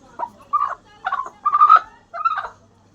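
A nearby desi hen gives about five separate throaty clucks in uneven bursts, with quiet gaps between them and no talking.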